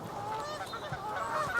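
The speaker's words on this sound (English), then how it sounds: "I can hear geese." Geese honking near open water and reed beds in a park valley, a steady chorus of overlapping calls at moderate distance, continuous throughout with no talk.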